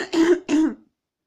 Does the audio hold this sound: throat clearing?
yes